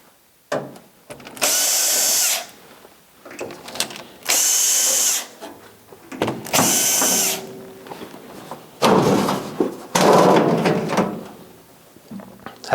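A power tool drives screws to take the stainless steel cover off a Frigidaire microwave, with several loud bursts of whirring, each a second or two long, between handling clatter and quiet pauses.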